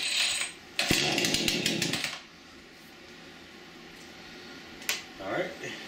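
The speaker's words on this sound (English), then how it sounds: "You gotta pull this here 5 times." A Craftsman S205 20-inch 46cc two-cycle gas chainsaw getting a cold-start starter-cord pull, with a long rattling zip in the middle and a brief second tug near the end, fairly close.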